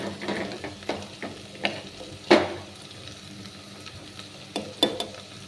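Ginger stirred in a sizzling frying pan, with a steady low fry and a series of sharp spatula scrapes and clacks against the pan at irregular intervals, close and fairly quiet.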